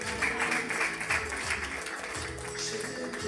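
An audience clapping, a dense, steady wash of many hands applauding at moderate volume that lasts the whole moment without a break.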